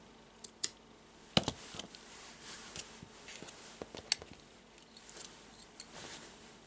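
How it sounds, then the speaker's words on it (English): Scissors snip yarn while a friendship bracelet is being finished. Quiet, irregular crisp clicks and snips are spread across a hushed background, with a few sharper cuts standing out. "I will cut the yarns"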